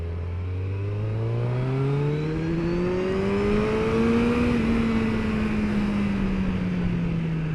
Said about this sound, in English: Don't half make a growl in second gear when you give it a bit of thrust.